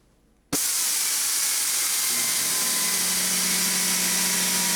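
A high-RPM die grinder spins up abruptly after a short silence and holds a loud, steady high-pitched whine as it grinds aluminum.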